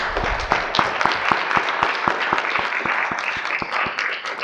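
Applause at a board meeting: brisk, evenly spaced claps from a small group in a room, fairly close and steady for several seconds with no talking over it.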